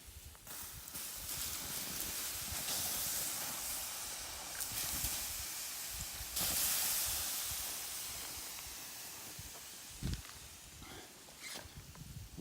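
A steady broadband hiss of water poured onto a smoldering campfire's hot embers, with a few brief surges and crackles, fairly close and without talk.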